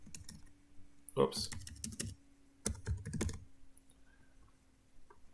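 Keys clack on a computer keyboard in several short bursts of quick, close taps with pauses between, while a person says a brief word.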